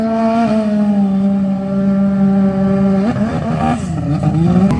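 A modified Polaris RZR Pro R off-road vehicle with a turbo runs in a loud, steady drone. Its pitch holds level, then wavers and climbs in short revs near the end, with no talking.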